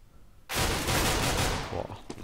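Sustained burst of automatic gunfire in a Counter-Strike match on de_inferno, a loud dense rattle of shots lasting nearly two seconds after a brief quiet start, tailing off into a few scattered cracks.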